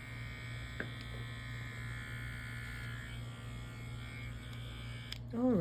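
Electric clippers shave a dog's fur with a steady, close buzzing hum that runs the whole time without a break, swelling a little louder near the end.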